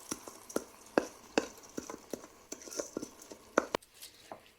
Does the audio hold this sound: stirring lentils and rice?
yes